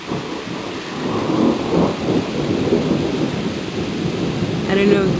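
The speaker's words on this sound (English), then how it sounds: "I don't know if the camera picked up on that thunder," A thunderstorm roars outdoors: heavy rain pours in a dense, steady wash while a low rumble of thunder swells and lingers beneath it, with a faint voice near the end.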